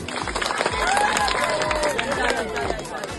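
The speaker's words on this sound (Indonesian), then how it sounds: "Tepuk tangan yang meriah" Lively applause from an audience at a school presentation event, mixed with crowd babble and voices over a rhythmic low thumping in the background.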